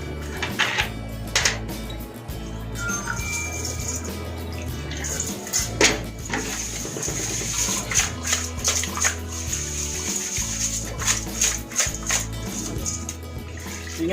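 Fish pieces washed by hand in water with rock salt and vinegar for a Kerala fish curry: continuous close sloshing and splashing with clinks against the bowl and scattered drips.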